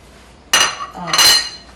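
Two bright clinks of dishes and serving utensils ring out about half a second apart as roasted vegetables are scooped onto a plate, close and clear with no talking.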